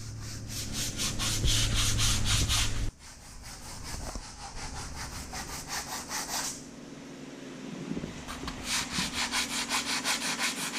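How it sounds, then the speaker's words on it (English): A fiberglass sailboat hull damaged by osmosis is sanded by hand, with steady rhythmic scraping strokes that are loud and close, pausing and shifting pace before quick repeated strokes resume. "Christoph gave the hull a final sand to ensure a smooth surface before we began fiberglassing"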